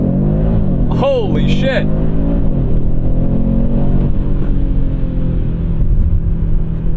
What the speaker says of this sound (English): to then do launch control. And to do a launch, get on the brake.